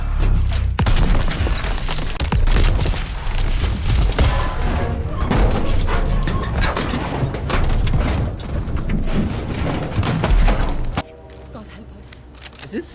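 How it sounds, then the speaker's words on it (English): A loud, chaotic explosion in the VR game Medal of Honor: Above and Beyond, with crackling debris and rumbling bursts, continuing for several seconds before cutting abruptly to a quieter hum. "Is this explosion going to be as big as I think?"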